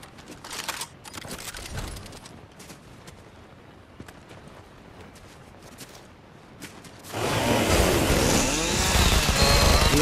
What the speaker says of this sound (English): he stole my chainsaw from me